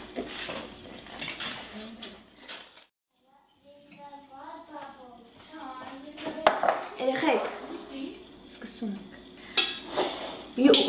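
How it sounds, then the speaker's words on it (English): Wheat grain being washed in a cooking pot for Armenian harissa, with clattering pot and utensil knocks and clinks scattered through, someone talking over much of it. "So I'm gonna wash the wheat and start the cooking."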